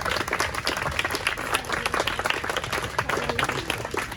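Audience applause welcoming two guests at a bookshop event, dense steady clapping from a crowd throughout, fairly close and continuous.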